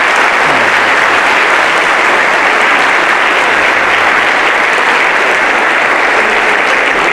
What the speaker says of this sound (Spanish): Pues ese aplauso, por favor.